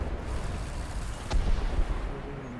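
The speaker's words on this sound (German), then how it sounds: "Wieder so eine Bombe abgelegt." A bomb blast in the tank combat game War Thunder, set in the Ardennes: a single muffled boom rolls through a low, rumbling battle bed, followed by a second thud, moderately loud and with no talk over it.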